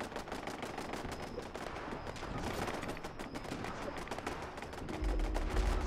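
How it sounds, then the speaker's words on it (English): Automated turrets firing in Fallout 76, a continuous rattle of rapid gunshots at a distance, low in level, with a heavier rumble toward the end. "Sounds like our turrets are doing all the work."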